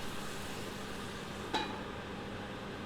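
Ginger and garlic sizzling in a pan for a simple vegetable curry: a soft, steady frying hiss with one brief clink of a utensil midway.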